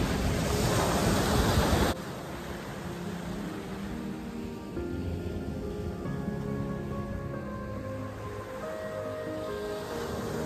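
Waves break and wash steadily onto a sunny beach, a loud surge at first and then a softer continuous roar of surf mixed with wind, no voices.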